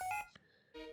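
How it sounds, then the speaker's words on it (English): Electronic ringing of the Xtransceiver in the Pokémon White video game: two bursts of bright, tonal beeps separated by a short gap, close and clean with no talk over them. "cross transceiver is ringing"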